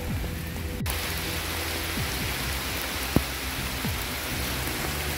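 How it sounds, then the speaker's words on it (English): Steady rain falls and patters on surfaces outdoors during catfish fishing with lightning around, a continuous hiss with one sharp click partway through and no voices. "Not letting the rain slow Dave down today."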